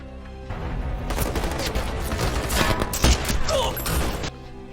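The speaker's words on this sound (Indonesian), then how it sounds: "Baku tembak pun terjadi di sana" Gunfire in a shootout from an Andy Lau action film: a dense, loud fusillade of overlapping shots and bursts with a heavy boom near the middle, running steadily for several seconds over a mixed soundtrack.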